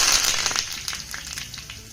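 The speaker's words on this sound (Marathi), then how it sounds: "आता ही कडकडीत फोडणी आपण नाश्त्यावर घालूया" Crackling, spitting sizzle of mustard seeds, cumin and curry leaves popping in hot oil for tempering, dense at first and fading slightly.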